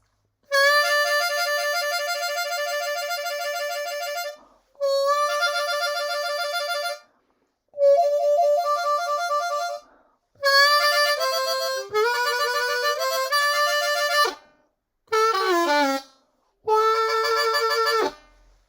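Blues harmonica trills played in several separate bursts, rapid warbling alternations between adjacent draw notes, loud and close with short silences between phrases and no talking.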